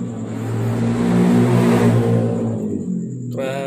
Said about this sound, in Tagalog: ang ingay ng mga motor no guys, pasensya na.